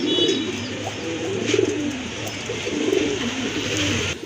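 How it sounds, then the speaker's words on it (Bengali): Pigeons, including round-shaped pairs, cooing in repeated soft, low rolling calls, close and steady against a busy background murmur. "এই যে দেখেন আপনার রাউন্ড শেপের কবুতর"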